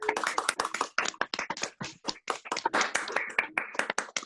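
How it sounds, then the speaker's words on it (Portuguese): Several people clap at a Jungian institute's online gathering, a dense, uneven patter of close hand claps running steadily throughout with no voices. "com muitas palmas, aplaudir essa maravilha que nós recebemos"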